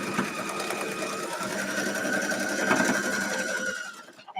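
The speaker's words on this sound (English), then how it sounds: "it's just sewing on the line" A sewing machine stitches along a line on a quilt block, a close, steady rapid mechanical whir that runs for about four seconds before stopping abruptly.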